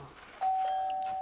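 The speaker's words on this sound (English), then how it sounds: "Doorbell." A doorbell at a house front door gives a single clear electronic tone that sustains and slowly fades over a quiet room.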